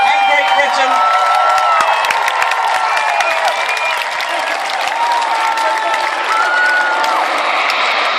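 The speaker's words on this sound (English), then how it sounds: "let's have a big round of applause and cheer for Her Majesty the Queen and Great Britain" An outdoor crowd at Hastings Pirate Day applauds and cheers, dense continuous clapping with scattered whoops and shouts, fairly loud and close, with faint tones of aircraft or music drifting behind.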